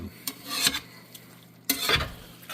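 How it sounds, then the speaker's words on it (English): A spoon stirs sugar, salt and red pepper into baked ziti sauce in a pot, giving two short bursts of close scraping and wet mixing against a low steady background. "We're going to mix that all in real good."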